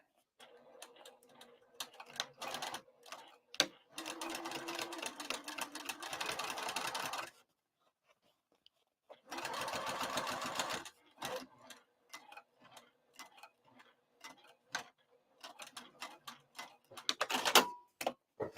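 A sewing machine stitches a crossbody bag at stitch length 4, running in two sustained bursts of fast, close whirring, with quiet clicks and handling noises in the pauses between them.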